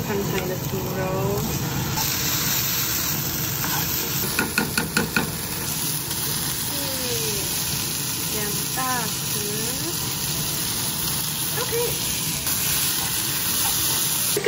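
Pork sizzles in a hot pan while stir-fried with onion, Korean chili paste and a little oyster sauce: a steady bright hiss of frying with a few quick knocks of a utensil against the pan and some faint talking in the background.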